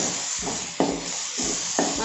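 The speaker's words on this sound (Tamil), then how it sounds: "கத்திரிக்காவை நல்லா சேர்த்து வதக்கி எண்ணெயில்." Brinjal sautéing in hot oil with tomatoes for a fish curry, a steady soft sizzle broken by a few periodic stirring scrapes, close and quiet.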